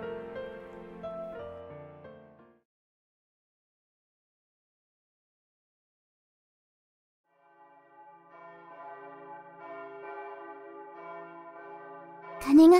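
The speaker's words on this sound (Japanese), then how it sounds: "鐘が始まりを告げましたね。" A church bell rings out in a visual novel, its tolling tones sounding for a couple of seconds, falling silent, then returning several seconds later with a sharper strike at the end; no one speaks.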